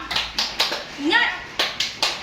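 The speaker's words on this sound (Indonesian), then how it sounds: "ayo kita coba dulu tes semangatnya dengan tepuk semangat yuk" Children in a classroom doing a rhythmic clapping chant, tepuk semangat: sharp, evenly spaced claps in a steady beat, with a short spoken call between them.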